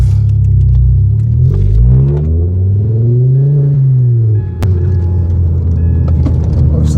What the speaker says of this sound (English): Right, so hopefully you're going to hear how loud this car is now